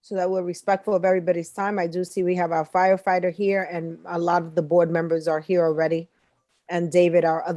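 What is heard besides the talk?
No everyday noise stands out behind the speech.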